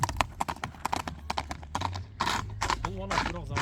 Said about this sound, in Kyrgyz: Туяктары калың ат экен ака.